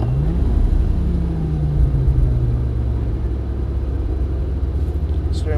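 A yellow Lamborghini's engine idles at Elvington, a steady low rumble with a slight rising note near the start, holding constant throughout and close by.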